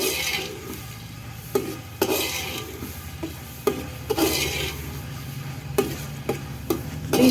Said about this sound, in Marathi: हे डाळ छान छानपैकी आपण परतवून घेणार आहोत